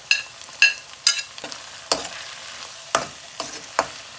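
Garlic and ginger sizzle softly in a pan while a utensil stirs, leaving a series of sharp scraping clicks at irregular intervals over a low, quiet frying hiss.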